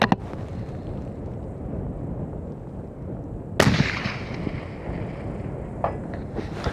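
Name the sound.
hunting rifle shot fired at 600-yard range target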